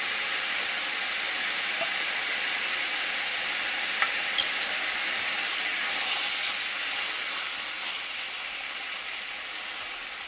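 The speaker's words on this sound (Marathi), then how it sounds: "अद्रक लसूण छान असं खरपूस भाजला गेला तेलात तुपात" Ginger garlic paste frying in oil and ghee for pav bhaji gives a steady, close sizzle that lasts throughout, with a couple of small pops and no talking.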